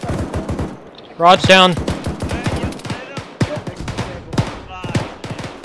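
Video game gunfire inside a bunker, rapid bursts of sharp shots with ringing ricochets, loud and close, and a brief voice speaks between the volleys.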